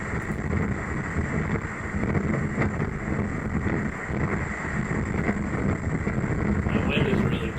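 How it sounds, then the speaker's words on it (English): Strong wind buffets a ferry camera during severe coastal weather between Florida and Virginia, a constant roaring rush with a low rumble that does not let up, while a presenter talks over it. "The wind is really blowing out there, that's for sure"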